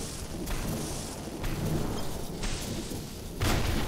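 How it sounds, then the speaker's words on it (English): Lightning strikes a metal rod in the physics sandbox game People Playground: a series of loud, rumbling crackling booms arrives in repeated waves, harsh and close, with no talking over it. "See, lightning goes towards metal."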